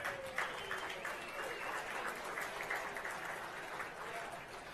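Steady applause from a banquet crowd at a racing series year-end awards dinner, a dense even patter of many hands clapping for several seconds, with faint voices mixed underneath.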